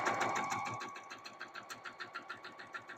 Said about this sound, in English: So I'm going to take this to the sewing machine and sew it right here.